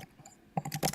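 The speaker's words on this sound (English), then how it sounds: "hearing you're typing there, Maggie." Soft clicks from typing on a computer keyboard: a few faint taps, then a quick cluster of sharper keystrokes near the end, quiet and close with no talking.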